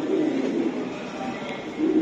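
A club-raced racing pigeon cooing close by, giving low, soft, rolling coos at the start and again at the end against a steady hushed background.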